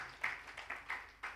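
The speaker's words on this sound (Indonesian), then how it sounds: "Tepuk tangan lagi bagi Tuhan Yesus." Scattered, uneven hand claps from a church congregation during a Sunday service in Banjarmasin, faint and distant, a few sharper claps standing out over a quiet room.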